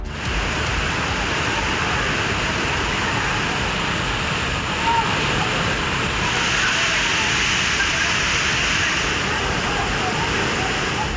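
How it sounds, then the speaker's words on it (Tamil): Waterfall in Tamil Nadu where tourists and pilgrims bathe, a loud constant rushing roar of falling water with no break across the whole span. "சுற்றுலா பயணிகள் மற்றும் ஐயப்ப பக்தர்கள் அருவியில் குளித்து மகிழ்ந்தனர்."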